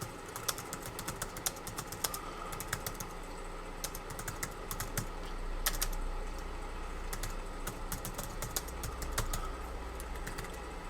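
Someone types on a computer keyboard in quick, irregular bursts of crisp, close clicks and key taps, running steadily with brief pauses and no talking.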